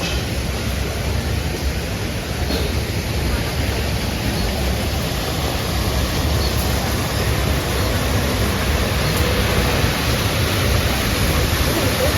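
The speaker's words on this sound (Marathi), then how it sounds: "म्हणजे मस्त एक धबधबा आर्टिफिशियल धबधबा इथे दाखवला आहे" An artificial waterfall at the Kaneri Math museum in Kolhapur pours with a loud, constant, even rush of falling water that fills the whole stretch without pause.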